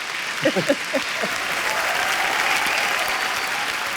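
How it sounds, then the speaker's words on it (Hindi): Audience applause at a live event with a celebrity comedy show, a dense steady wash of clapping throughout, with a few brief voice bursts near the start. "जोरदार तालियां एक बार"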